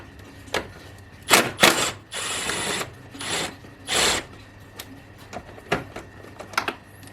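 A T30 Torx fastener is worked loose on a 2011 VW Tiguan 2.0 TSI, with several short bursts of ratcheting and scraping tool noise separated by quiet gaps, close by and without speech.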